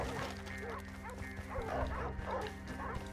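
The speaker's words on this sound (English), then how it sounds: "Mangy blue tick coonhound. Bunch of mangy dogs." Bluetick coonhounds in a video game bark repeatedly in a steady series of yelps and bays over a constant humming game background, mid-distance and moderately loud.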